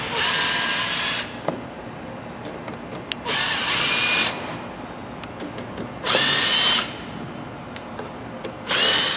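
A power drill backs screws out of waterjet bricks in repeated loud, high whirring bursts, each about a second long, with quieter clicks and handling between them.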